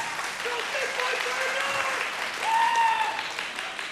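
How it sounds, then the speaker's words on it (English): Audience applause at a televised vocal competition show, a steady wash of clapping lasting a few seconds that swells near the end, with faint tonal sounds running over it. "Quick round of applause, please, for Dream Inn."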